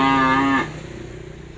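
A single loud, near cow moo from a newly arrived lot of cattle at a livestock trader's, a sustained low call about half a second long that cuts off into quiet barn ambience.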